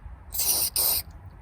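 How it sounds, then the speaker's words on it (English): Two bursts of pressurized graphite lubricant spray hiss into a lock, the first longer, separated by a short pause, close and loud against a quiet background. "shake it up, and then we're going to spray it inside the lock"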